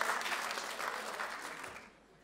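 A crowd at a Dutch communication meetup applauds warmly, steady clapping that carries on for about two seconds before dropping away quickly.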